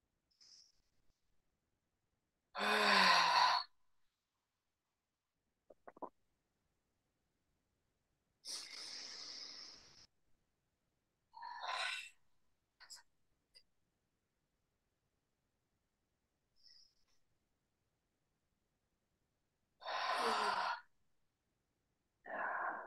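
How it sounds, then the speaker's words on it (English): A group of people take three deep breaths together, each a long, airy inhale or exhale heard clearly in a quiet room, spaced several seconds apart with short silences between. "let's just start with all just taking 3 deep breaths"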